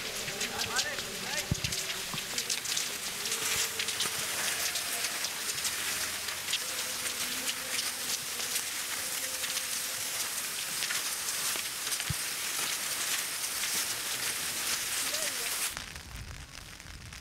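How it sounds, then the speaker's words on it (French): Rain falls in steady dense patter with gusting wind in a mountain combe during an ultra-trail race, loud and continuous, with a few faint crackles before it drops off abruptly near the end. "Dans la combe, la pluie se mêle aux rafales de vent."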